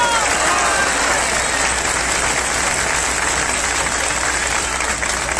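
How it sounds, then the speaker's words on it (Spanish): Crowd applause at an outdoor campaign rally in Guaymas, Sonora, a steady dense wash of clapping and crowd noise filling the whole span at high level. "Fuerte el aplauso"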